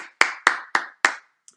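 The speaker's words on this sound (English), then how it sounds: "Give them a round of applause." Four sharp, evenly spaced hand claps from a single person, close and crisp, each ringing briefly before the next, followed by a faint final tap.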